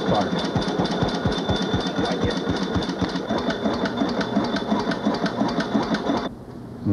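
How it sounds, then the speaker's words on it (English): Ignition spark arcing steadily on the engine of a 1893 Springfield Duryea antique car replica, a fast, even buzzing stream of crackling snaps up close that stops abruptly near the end. "Now we have spark, and I think that that's a pretty healthy spark coming out of that now."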